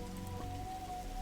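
Steady rain falls throughout a rainy scene in the detective adventure game The Darkside Detective, a soft continuous patter layered over a low ambient hum, with no voices.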